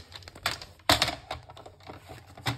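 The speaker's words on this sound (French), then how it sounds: "Mon massicot." A paper trimmer cutting paper for a scrapbook album, giving a few quick scraping and clacking strokes with one sharp louder snap near the start, close and dry, without talk.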